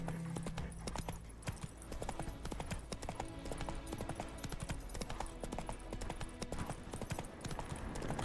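The horse Roach from the video game The Witcher 3 trots with quick, steady hoofbeats, a continuous clip-clop rhythm heard close, with faint voices in the background.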